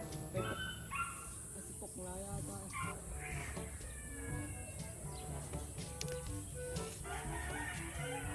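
A dog barks repeatedly amid outdoor ambience, with birds calling and people talking nearby, and a steady high whine running throughout.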